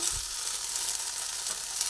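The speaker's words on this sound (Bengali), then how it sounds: "নুন দিয়ে আবার ভালোভাবে নাড়াচাড়া করে ভেজে নিই" Okra sizzles and crackles in hot oil in a pan, a steady close frying hiss with occasional stirring.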